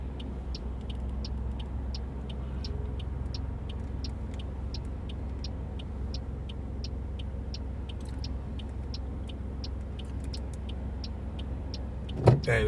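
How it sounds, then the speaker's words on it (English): Cars passing on a road used by joggers and dog walkers, a steady rolling traffic hum running throughout with a louder close thump near the end. "I'm just waiting for the cars to go past."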